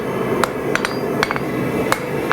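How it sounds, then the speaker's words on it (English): Steel hammer blows ring sharply on an anvil at a blacksmith's forge while a pair of tongs is shaped, five or six close metallic strikes in an irregular rhythm over a steady background hum. "Hammer, turn it over."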